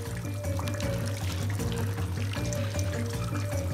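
Water leaking through a damaged roof indoors and splashing into containers, a steady loud pouring and trickling stream that continues throughout without pause.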